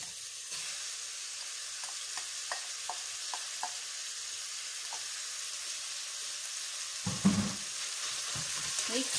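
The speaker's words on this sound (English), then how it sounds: "And I'll put my minced beef in." Minced beef sizzling and frying with onions in a pan, a steady close hiss with light scraping taps early on and a louder stirring clatter partway through.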